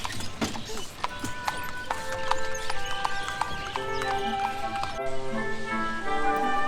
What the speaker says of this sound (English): take a horse carriage on a ride through the acres of palace gardens